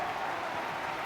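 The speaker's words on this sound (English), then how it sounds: "Yes, now they're cheering." A recorded studio audience cheers and applauds in a brief, steady wash of crowd noise at moderate volume, with no voices standing out.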